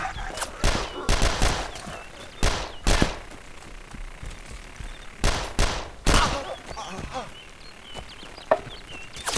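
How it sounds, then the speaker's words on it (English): Gunfire in the DayZ video game: scattered loud shots and short bursts ring out at irregular intervals over background ambience. "I have an AI shooting at me."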